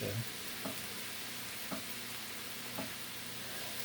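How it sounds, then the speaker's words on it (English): Cabbage and kielbasa get stirred in a Lodge enameled cast iron pot under a low steady sizzle, with a few distinct scraping strokes spaced about a second apart, quiet and close, and no talking. "Mix it all up good."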